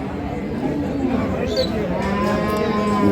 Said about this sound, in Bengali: এখানে একটি বকনা বাছুর